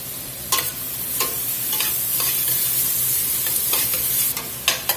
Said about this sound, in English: After you've been sauteing about 5 minutes, carrots start to soften up